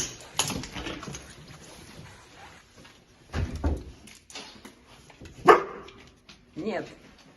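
Dog barking, a long-haired former stray, with a few short barks scattered among people talking close by.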